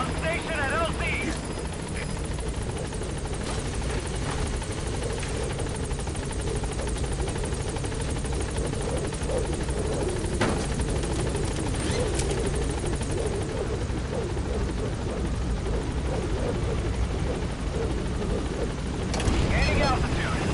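Helicopter in Metal Gear Solid V arriving at a landing zone, a continuous rotor thump and turbine whine holding steady throughout, with radio voice chatter over it.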